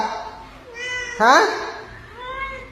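A cat meows once, loud and close, with rising, wavering pitch, while a person talks softly nearby.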